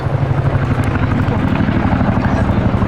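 A Royal Air Force Boeing Chinook HC.6 helicopter, ZH904, flying at the Cosford Air Show 2024 with an underslung load: a loud, steady, throbbing rotor drone with heavy low rumble that holds unbroken throughout.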